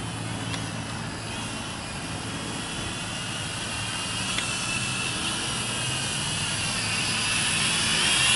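A small R/C smart drone flies in a windstorm, its rotors giving a steady whining buzz over heavy wind rumble that swells slightly toward the end, with no voices.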